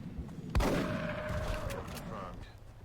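A single sharp gunshot headshot in XCOM: Enemy Within cracks out near the start, followed by a ringing, decaying tail with game effects under a voice.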